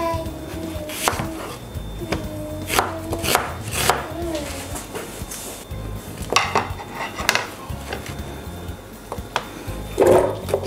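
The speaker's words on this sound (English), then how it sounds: "we're going to start by cutting our onions, ginger, garlic" A knife chopping onions, ginger and garlic on a board for shito, a hot black pepper sauce: irregular, close chops, some clustered and some spaced out, with occasional clatter of dishes in between.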